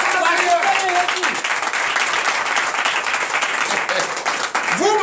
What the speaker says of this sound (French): Donnez des vives acclamations à Jésus.